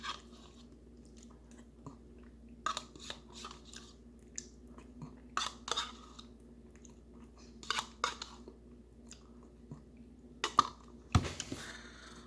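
Someone eats plain oat yogurt cereal from Denmark, with soft, close chewing and occasional crunchy bites and clicks scattered over a quiet background.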